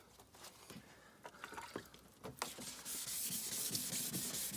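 Hand sanding with fine 2000 grit sandpaper in a Ford Transit camper van build, a soft rhythmic rubbing that grows into a quiet, steady hiss of strokes, faint and close, with no speech.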